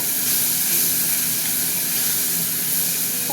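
Boiled tomato tipped into a pan of fried onions, giving a steady, close hiss and sizzle that holds evenly throughout with no talking.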